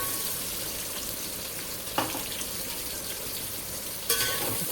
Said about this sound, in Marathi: मी तमालपत्र टाकत आहे. आणि आपण आता कांदा टाकून घेऊया.